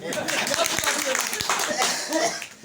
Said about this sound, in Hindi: सुबह जी के लिए ताली बनती है